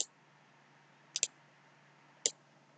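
A few quiet, sharp computer mouse clicks come close, one double click then a single click about a second later, over a low steady background hum.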